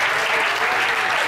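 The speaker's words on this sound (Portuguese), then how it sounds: "Dá uma salva de palmas para Jesus, meu irmão." A church congregation at a night vigil claps in a thick, continuous, loud burst of applause filling the whole short moment.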